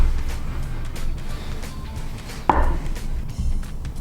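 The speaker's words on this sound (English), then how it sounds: "I bought this wood thing to cut onions on" Onion chopped with a knife on a wooden cutting board in a home kitchen, a few soft irregular cuts with one sharper knock against the wood, close and moderately loud over faint background noise.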